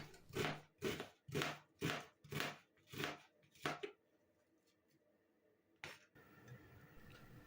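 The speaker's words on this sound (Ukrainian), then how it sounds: "Цибулю ріжемо дрібненько на невеличкі кубики" Seven steady knife chops on a board as an onion is diced into small cubes, in a quick, even rhythm, close and crisp, followed by a quiet pause and a single later knock.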